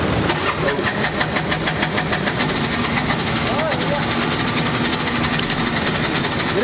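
Bajaj auto rickshaw three-wheeler engine cranking and being revved in India, a steady close mechanical drone with rising rev swells throughout, while people talk over it.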